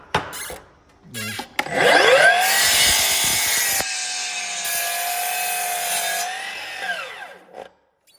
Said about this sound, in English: I'm going to leave the line when I cut it